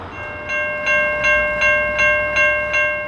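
A VIA Rail passenger train with an old Budd sleeper car as a buffer car rolls past close and loud, with a sustained ringing tone over evenly spaced wheel clacks over rail joints.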